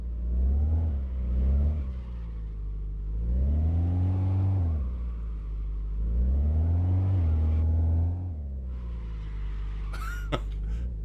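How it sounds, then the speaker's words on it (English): A car engine in a racing video game revs up and down in repeated smooth surges, loud and close, rising and falling in pitch across several cycles, ending with a brief sharp squeal. "You can hear the tires squeal."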